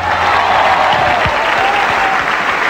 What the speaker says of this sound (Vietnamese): dành tràng pháo tay cổ vũ tinh thần cho bạn Quang Hòa.